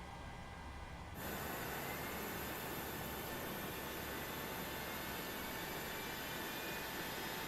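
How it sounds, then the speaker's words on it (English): Engine number 2 of a Boeing 737-900ER in a flight simulator spools up, a broad steady roar that switches on abruptly about a second in and holds constant, with no talk. "starting engine number 2"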